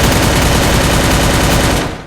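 Rapid automatic gunfire from the Free Fire Max video game, a dense, loud continuous burst of shots lasting about two seconds before cutting off, with no talk over it.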